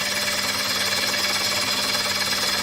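A wood lathe turns a large platter, giving a steady, continuous whirring roar that holds an even level throughout with no breaks or voices.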